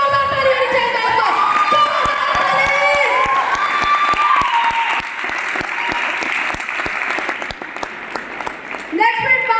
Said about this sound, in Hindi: हम चाहते हैं बीपी दादाजी के लिए खड़े होकर के जोरदार ताली होनी चाहिए दोस्तों।